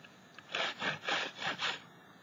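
Paint rubbed off a painted surface in five rhythmic, close strokes, each a soft scratchy swish, with no one talking.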